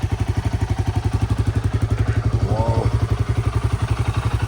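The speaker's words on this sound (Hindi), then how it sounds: "Himalayan of road bike." A Himalayan off-road motorcycle engine thumps close by in a rapid, steady single-cylinder idle rhythm, loud and even, with a brief higher whine partway through.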